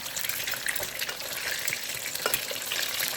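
Beef frying in hot, smoking fat in a non-stick pan for oyster beef, a loud continuous close sizzle with crackles and stirring, no speech.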